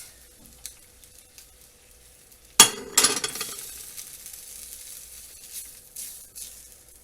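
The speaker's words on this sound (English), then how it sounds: "Add another ladle of stock" A ladle of stock hits a hot pan of risotto with peas, a sudden loud splash and hiss that settles into a steady, gentle sizzle and bubbling, with faint utensil clinks before and after.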